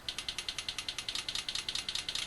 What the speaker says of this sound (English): So this is what it would sound like if it was idling.